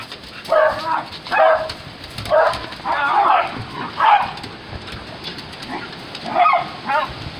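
Several beagles play together, giving short bursts of yips and barks that repeat every second or so, close by, with a person talking between the bursts.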